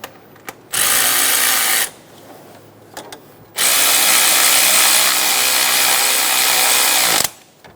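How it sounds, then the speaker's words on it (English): Power tool driving and snugging the idler pulley bolt on a 2003-2007 Honda Accord engine during a timing belt job: two loud whirring bursts, a short one then a longer sustained run, with brief pauses between. "we're going to snug down that idler pulley bolt"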